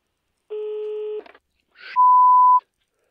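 A telephone call dialing through: a steady tone, a short burst of rapid dialing clicks, then a clear electronic ringback beep, all alone with no voices.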